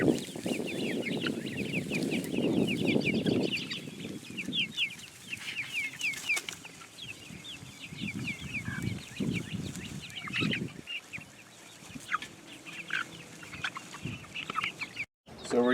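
Several Freedom Ranger meat chickens cluck and chatter continuously nearby on pasture, with occasional louder squawks over a busy outdoor background.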